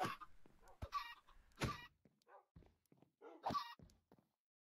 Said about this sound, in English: one of the eggs just gave four chickens